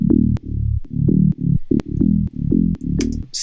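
A low, harmonically rich synth bass patch from an EDM song plays in a choppy rhythm of short sustained notes separated by gaps, with a few sharp transient clicks and a brief noisy burst near the end.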